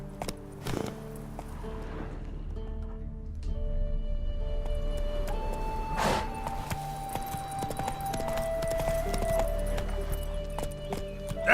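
Horse hooves clip-clop at a walking pace in The Witcher 3 video game, low under an ambient music score with sustained tones and a few soft thumps.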